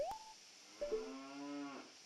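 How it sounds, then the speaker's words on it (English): A cow in The Legend of Zelda: Ocarina of Time 3D moos once, a long low call heard clearly, following a short brighter tone at the start. "Can still hear the cow."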